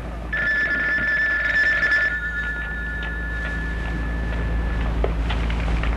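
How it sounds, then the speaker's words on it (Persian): A telephone rings with a bright electronic trill for about two seconds, then a fainter tone lingers over low background rumble. "خیلی باز این تلفن زنگ زد."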